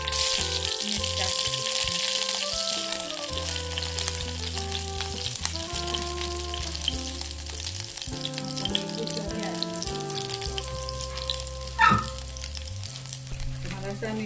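Green chillies and curry leaves crackle in hot tempering oil for lemon rice, a steady close sizzle with music-like tones running over it and one brief louder pop near the end.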